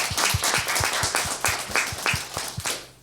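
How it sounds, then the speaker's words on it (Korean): A church congregation claps together during a Sunday Christmas worship service, sharp hand claps landing in a fairly steady rhythm of about three per second, close and full, with no voices over them. "하나님께 영광이 박수 올려드립니다"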